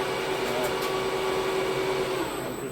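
A Hafco AL 356V metal lathe runs with its power feed engaged, giving a steady mechanical whir with a faint high tone, constant and fairly quiet throughout.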